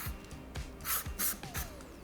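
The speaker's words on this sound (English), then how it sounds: "we're just gonna spray it on, and it's SPF, so we're getting our sunscreen on" SPF sunscreen body spray misted onto bare skin during a summer makeup routine, heard as several short hissing bursts in quick succession, close and moderately loud with brief gaps between.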